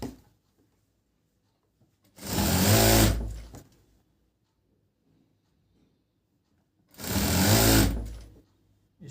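Close sewing machine stitching the inner seam of trousers, two separate bursts of rapid whirring about a second long each, with quiet between them.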